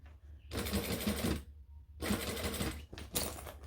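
Sewing machine top stitching a quilted cushion, running in two steady whirring bursts of rapid needle clatter with a short pause between, then a brief third spurt, close and fairly quiet.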